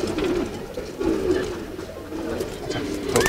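Racing pigeons from a home loft coo in soft, repeated low murmurs, close by and steady across the stretch, with faint rustling in the background.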